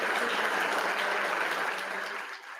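An audience applauds members of law enforcement, a dense, steady clatter of many clapping hands that holds loud throughout and eases slightly toward the end.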